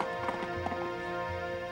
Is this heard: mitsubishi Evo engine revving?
no